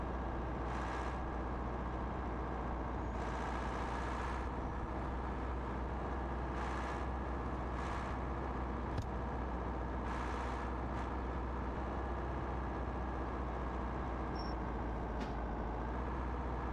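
Truck driving in Truck and Logistics Simulator, a video game: a constant, heavy engine drone runs throughout with occasional short hissing bursts like air brakes, steady and uniform with no talk.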